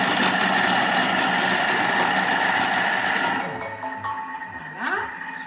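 A Thermomix runs loudly for a few seconds, blending tomato sauce with garlic. Its motor roars steadily, then winds down into a fading whir.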